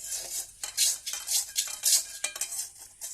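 A spoon scrapes and clanks around a pot of chicken mixed with chili, turmeric, salt and oil over a lit stove, in quick rhythmic stirring strokes with a faint sizzle beneath.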